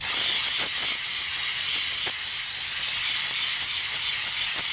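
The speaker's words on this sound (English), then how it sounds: "Hope they don't ban steam cleaning." A steam cleaner used on parts gives a loud, steady hiss that runs the whole time, close by. A few faint clicks sit under it.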